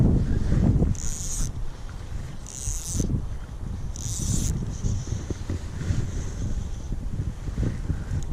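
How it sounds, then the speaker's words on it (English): Gusty wind buffets the microphone in low rumbling bursts, with a few brief bright hissing swells, outdoors beside a trout creek and fairly loud. "A little windy today"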